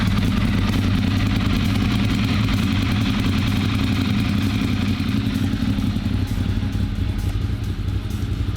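A repaired Ducati superbike engine running steadily after being fired up, a loud, close, continuous mechanical rumble with a clattery idle and no audible talking.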